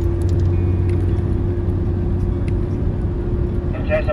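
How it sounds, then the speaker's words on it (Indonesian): A big truck overtaking on the road, heard from inside a moving vehicle as a heavy, steady engine rumble with road noise and a hiss near the end. "truk gede nyelip, truk gede, awas truk gede"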